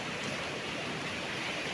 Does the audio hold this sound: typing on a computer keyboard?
no